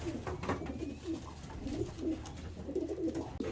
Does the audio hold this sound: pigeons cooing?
yes